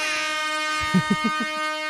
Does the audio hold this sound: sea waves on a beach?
no